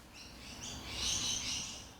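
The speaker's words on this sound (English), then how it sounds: "Normally I stop for the birds, but I'll let them chirp at the moment because they're not stopping." Wild birds chirp outdoors in Sydney, Australia, with a brief run of faint, distant high tweets that swell and fade over a low background hum.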